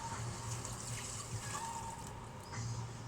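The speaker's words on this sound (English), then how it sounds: "we're going to fill it, yeah, with some chicken and vegetable stock" Chicken and vegetable stock pours into a cooking pot with a soft, continuous trickling splash at low volume, steady for about three seconds.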